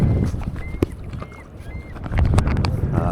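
Paddle strokes dip and splash on a lake as a small boat glides across deep water, with light wind buffeting the microphone between the close, irregular strokes.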